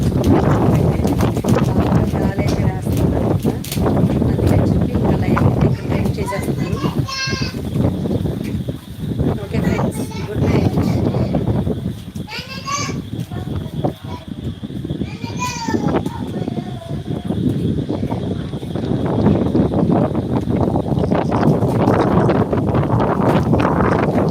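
Strong wind roars and buffets the microphone throughout during a rainstorm in Vijayawada, with voices talking and calling over the gusts.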